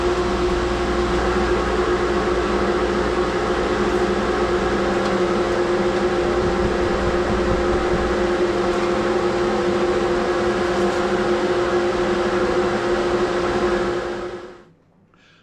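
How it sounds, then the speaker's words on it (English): A workshop dust collector with a freshly cleaned system and new filter bag runs with a steady, loud droning hum, then shuts off and fades out near the end. "Glad I got the dust collector cleaned out"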